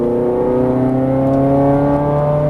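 A Ferrari 430 Scuderia accelerates hard on track, its engine loud and close in a continuous rising, harmonic-rich roar with no gaps.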